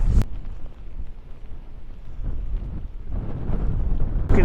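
Strong winter storm wind gusting beside a lake, a steady broadband roar that swells louder near the end, with no talking.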